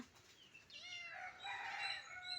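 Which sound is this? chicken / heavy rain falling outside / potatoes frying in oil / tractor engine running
chicken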